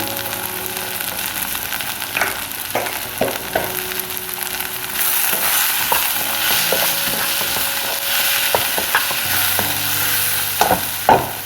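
Coriander powder and garam masala being sautéed in a pan for okra curry, a continuous close sizzle with repeated scraping and tapping stir strokes, no voices.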